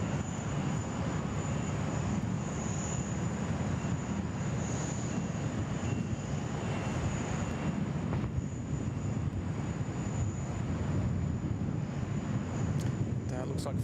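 China Southern Boeing 787 Dreamliner being pushed back at Sydney Airport, a continuous low engine drone and a thin steady high whine under light wind noise, with faint talk in the background.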